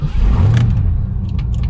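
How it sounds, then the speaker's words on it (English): A 1991 Ford Mustang Foxbody notchback with a rusty floor rolls into a garage, its engine rumbling low and close with a brief rev before easing off. "So let's get the car inside."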